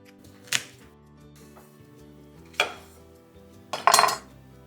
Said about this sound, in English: So butternut squash has seeds that you'll want to scoop out with a spoon, just like this